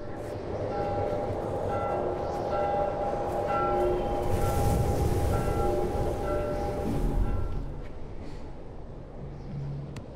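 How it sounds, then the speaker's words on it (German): Bells ring repeatedly in The Last of Us, a steady metallic peal with sustained tones running through a dense, rumbling game soundscape and holding at a constant loudness throughout. "für die Kirchenglocken alle bimmeln wie verrückt"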